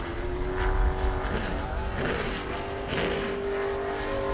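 The number 7 sportsman race car, a short-track stock car, runs its qualifying lap at New Smyrna with a sustained engine drone, steady and somewhat distant, swelling slightly as it passes.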